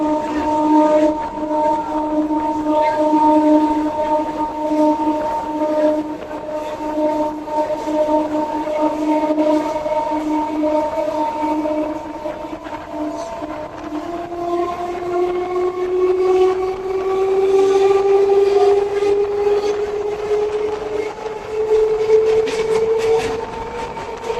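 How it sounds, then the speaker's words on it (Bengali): A Sealdah–Diamond Harbour galloping local train rumbles steadily and close, its tonal motor whine rising in pitch as it rolls into Jadavpur station. "এখন আমাদের ট্রেন এসে প্রবেশ করছে"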